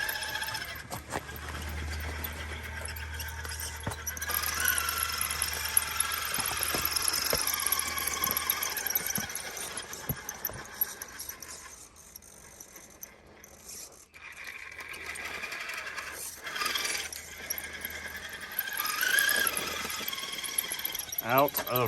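An Axial Capra 4WS RC crawler grinds over rocks on a trail, its small motor and gears whining and ratcheting in uneven bursts with pauses, close by and moderately loud, with a person talking at times.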